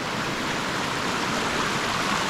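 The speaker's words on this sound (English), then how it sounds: "You are listening the sounds of this waterfall." A waterfall in Ethiopia roars as a steady, dense rush of falling water, loud and continuous with no other sounds standing out.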